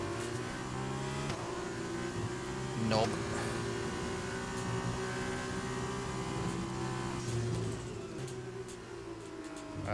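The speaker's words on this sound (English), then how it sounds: "I really love the sound of this engine" Formula 2 car engine in the racing game F1 2020, Bahrain sprint race, droning steadily at high revs with shifting pitch and a brief surge near the three-second mark, heard under a man's speech.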